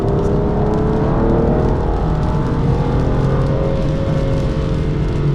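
An Aston Martin DB9 runs on a wet Grand Prix circuit, its engine droning loud and steady from inside the cabin with a rising whine as it holds speed through a corner, and no one speaking.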